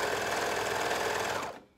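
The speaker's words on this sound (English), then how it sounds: "I just sew a few stitches to hold it in place" A sewing machine runs in one steady, continuous burst while stitching a t-shirt sleeve seam, loud and close, then stops abruptly near the end.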